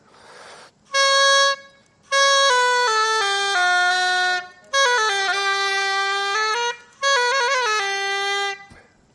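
An oboe played by a beginner sounds four sustained, buzzy reed phrases with shifting pitches, loud and close, separated by brief silences and with no talk.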